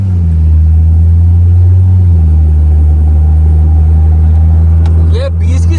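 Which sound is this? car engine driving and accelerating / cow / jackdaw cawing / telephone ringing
car engine driving and accelerating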